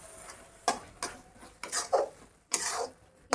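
A spoon scrapes and knocks against a pan while coconut barfi mixture with cardamom powder is stirred, giving a handful of irregular clinks and scraping strokes, close and clear with no talking.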